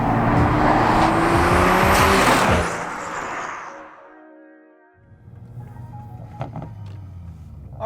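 A Toyota A90 Supra with full bolt-on parts and a flash tune roars loudly under hard acceleration, the engine note rising and then dropping away into a quieter, steady cruising hum, heard from close by with no voices.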